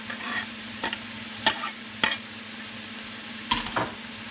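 Ground beef browns in a pan for tater tot casserole, with drained fat and onions added. A soft, steady sizzle runs throughout, broken by several sharp scrapes and clinks of a utensil stirring against the pan.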